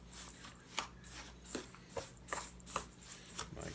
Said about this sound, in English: just mix them all together